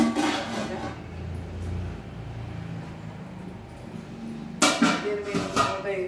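Metal pot lids clank and clatter in two bursts while cooking pots are gathered for a picnic, with sharp clustered strikes near the start and again toward the end.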